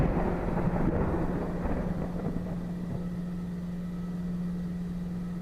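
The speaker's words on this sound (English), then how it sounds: "Is the thunder always that loud?" Thunder in the horror game The Mortuary Assistant, a deep loud rumble that rolls and slowly fades over a low steady hum, with no voices.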